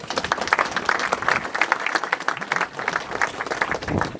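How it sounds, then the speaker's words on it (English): A crowd at a graveside wreath laying gives a steady round of applause, dense clapping that carries on evenly throughout without a break. "Give him a nice round of applause."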